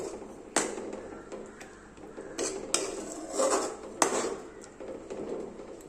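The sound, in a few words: mixing crushed papadam into curry with a spoon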